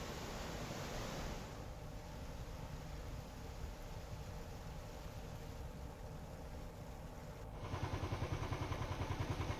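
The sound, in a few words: heavy flood water flowing down from above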